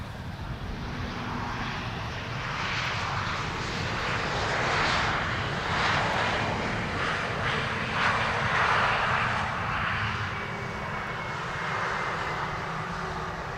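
An Airbus A320neo passes at Amsterdam Schiphol, its engines producing a broad, sustained roar that swells and slowly fades over several seconds, moderately distant.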